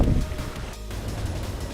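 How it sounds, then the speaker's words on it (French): Wind gusts across an isolated gravel-pit lake, a constant broadband rushing roar buffeting the microphone, slightly stronger at the start and steady throughout. "le vent souffle toujours autant"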